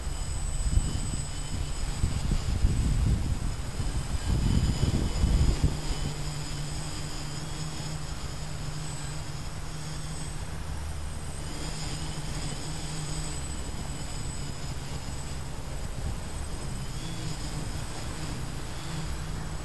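An AeroQuad Cyclone quadcopter holds its altitude while flying, giving a steady, even buzzing drone with a faint high whine. A louder rushing pass comes through near the start.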